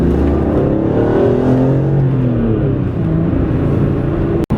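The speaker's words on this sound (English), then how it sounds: "I just love driving these E46 M3s" A BMW E46 M3 engine revs high and loud from inside the car while driving, a steady sustained drone with rising and falling pitch through the gears, close and continuous with no talk.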